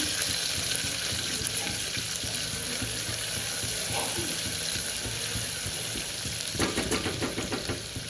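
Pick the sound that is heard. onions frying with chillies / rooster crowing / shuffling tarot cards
onions frying with chillies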